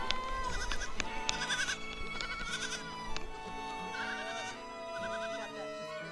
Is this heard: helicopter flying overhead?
no